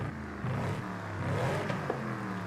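A naturally aspirated car engine revs in Forza Horizon 5, a loud, close, continuous roar whose pitch climbs and shifts over a couple of seconds, with no talking.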